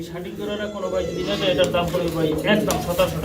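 Low pigeon coos repeat through the clip, close by at a pigeon sale, mixed with a busy background of people talking and other birds.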